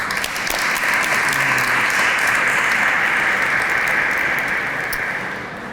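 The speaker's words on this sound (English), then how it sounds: "So let's give Chris another round of applause, please." Sustained audience applause at a Hispanic Heritage Month opening ceremony, a dense, steady wash of clapping from a large crowd that holds for several seconds before easing slightly at the end.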